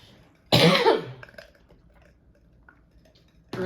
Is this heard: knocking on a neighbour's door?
no